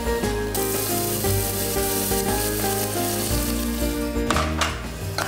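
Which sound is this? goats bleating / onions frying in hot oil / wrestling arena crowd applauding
onions frying in hot oil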